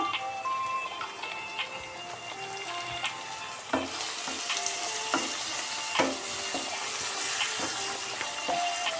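Bitter gourd frying in hot oil until golden, a steady close crackling sizzle with occasional sharper pops and a few stirring knocks, growing denser and brighter about halfway through.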